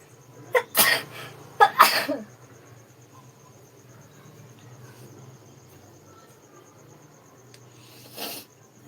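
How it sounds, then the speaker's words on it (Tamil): A person with a cold sneezes twice in quick succession, loud and close, then a softer sneeze follows after a pause, with crickets chirping faintly throughout in the background. "சாரி தும்மல் வந்துடுச்சு"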